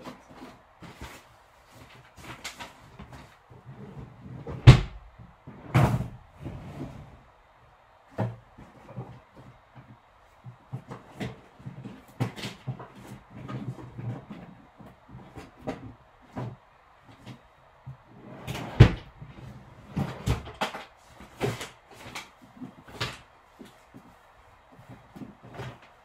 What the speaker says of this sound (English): Let me just check in my drawers